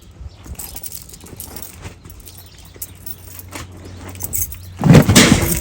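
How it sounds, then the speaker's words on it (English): A 1996 Ford F250 farm truck with battery trouble, heard as keys jangling and a faint hum, then a loud, short burst of the engine cranking near the end. "So, I guess let's see if she'll crank."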